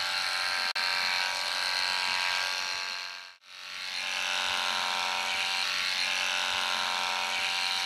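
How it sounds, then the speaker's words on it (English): Electric horse clippers buzz close and steady while clipping a horse's head, with a brief cut-out early and a longer dip partway through before the hum resumes. "Your horse gets a little bit nervous about the clippers coming up towards his eye."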